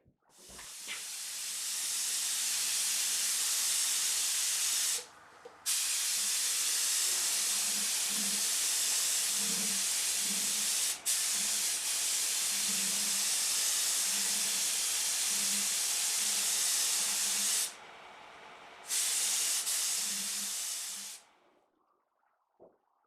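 Spray gun hissing steadily as final finish coats are shot on two oval-hole F-style mandolins, a loud continuous spray broken by two brief pauses, cutting off near the end.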